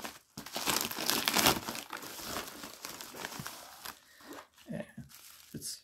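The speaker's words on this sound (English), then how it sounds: "but that tape's pretty easy to pull" Packing tape being pulled off a parcel shipped from Australia, a run of close, loud crinkling and tearing rips that fades into a few softer rustles near the end.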